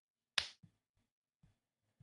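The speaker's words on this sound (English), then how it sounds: "I'll do a clap while we're waiting." A single sharp hand clap rings out once, loud and crisp, in a quiet room, followed by a few faint soft thumps.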